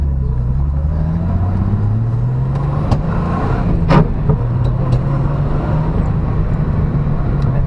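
Nissan Fairlady Z running on the road, engine rumbling with rising and falling tones as it shifts gears, loud and close, with a few brief clicks and knocks.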